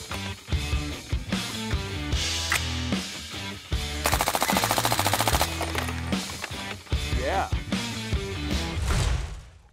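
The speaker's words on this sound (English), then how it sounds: "I wanna make double sure that both of these machine guns are super happy with this 300 BLK ammo." Two machine guns, an SBR and a carbine, fire 300 BLK ammunition in loud automatic bursts. Rapid rattling strings repeat throughout, with one long sustained burst in the middle.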